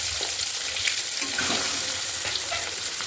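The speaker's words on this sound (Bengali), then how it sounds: "এবার আমি একটা একটা করে ডিমগুলো দেখো কড়াইতে ছাড়ছি।" Eggs fry one by one in a kadai with a steady, dense sizzle that keeps up without a break, close and fairly loud, with faint scraping and no talking.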